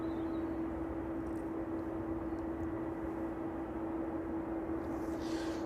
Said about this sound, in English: So 777 heavy,